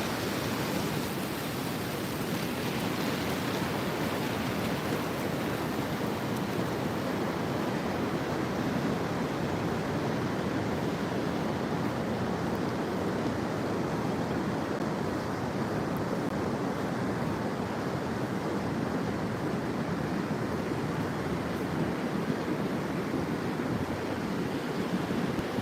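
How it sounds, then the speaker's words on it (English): Ocean waves wash onto the shore as the tide comes in, a continuous broad roar of surf mixed with wind on the microphone, steady and unbroken with no speech. "So the tide's starting to come in here."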